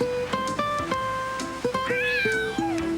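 A cat meows in a story, several drawn-out, tonal mewing calls in sequence, clear and close with no talk over them.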